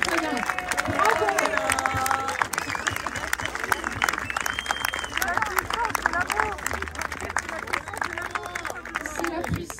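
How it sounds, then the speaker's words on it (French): A hall audience at a Nancy support rally for Martine Wonner applauds loudly and steadily, dense continuous clapping mixed with cheering voices and crowd noise throughout. "Vous pouvez vous applaudir vraiment très fort."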